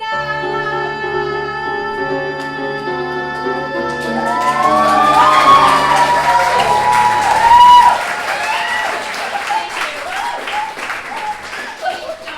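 Studio audience cheering and applauding at a comedy game show, rising into loud clapping and whoops after a sustained musical chord, then continuing as scattered cheers and shouts.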